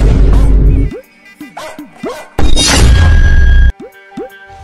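Dogs bark in several short, sharp bursts, close and loud, broken up by two stretches of heavy broadband noise.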